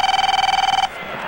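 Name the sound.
cell phone ringing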